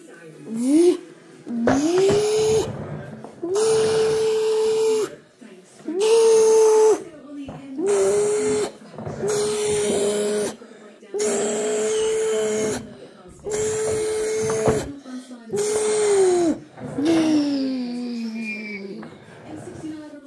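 Numatic James vacuum cleaner switched on and off repeatedly, each burst a loud steady whine with a rising and falling motor pitch, separated by short silences.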